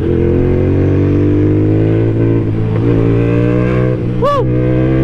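A KTM Duke motorcycle engine idles steadily with a deep, even drone close by, then revs sharply up and back down once near the end, with no one talking.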